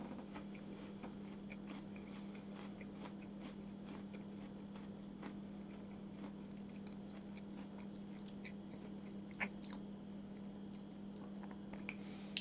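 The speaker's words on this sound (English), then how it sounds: "I get the almond crunch and flavour of almond" Someone chews crisp flaked almond biscotti up close, producing a faint, irregular series of crunches and clicks over a low steady hum, with no speech.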